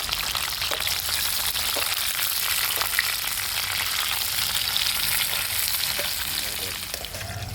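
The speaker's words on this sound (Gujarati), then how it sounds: "તો એવી જ રીતે આપણે કેપ્સિકમને પણ તળી લઈશું" Capsicum fries loudly and continuously in hot oil, a dense crackling sizzle with faint stirring underneath and no voices.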